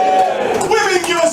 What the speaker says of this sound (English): So, men, give us a cheer.